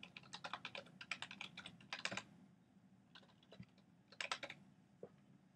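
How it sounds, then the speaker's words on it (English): Keys clatter on a computer keyboard in quick, uneven bursts of typing with short pauses between words. The sound is quiet and close, with no talk over it. "So I'll type in the keywords to find that image."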